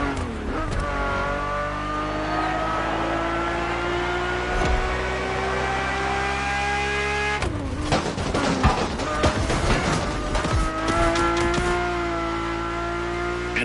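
Race car engine in a PS4 racing game revving hard with sustained high-pitched harmonic whine, rising through the rev range, briefly broken by gear shifts or a rough burst midway before climbing again, loud and alone.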